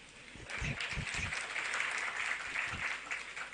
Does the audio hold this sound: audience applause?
yes